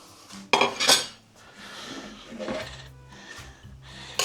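Chopped deboned chicken thigh pieces go back into a pot of chicken and rice soup with a couple of sharp metallic clanks of utensil on pot, followed by softer scraping and clatter.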